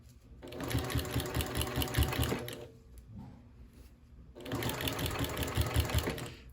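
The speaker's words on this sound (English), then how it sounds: "I am just pulling it over the front and then sewing" A sewing machine stitching a scrappy mug rug, running in two close, fast, rhythmic bursts of needle clatter with a short quiet pause between them.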